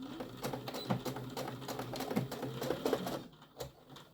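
A home sewing machine, dusty inside, clicks in a fast, steady mechanical patter while stitching a tote bag with a pocket, close and moderately loud, falling quiet near the end.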